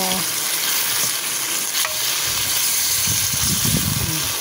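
Vegetables sauté in a frying pan, a continuous close sizzle and hiss with bits of stirring and clinking scrapes toward the end.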